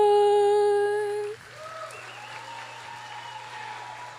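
A school audience applauds after the pledge and singing at an 8th grade completion ceremony. A sustained held sung note fades out and gives way to steady, moderate clapping.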